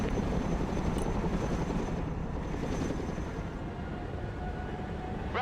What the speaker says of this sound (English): Chinook at your command.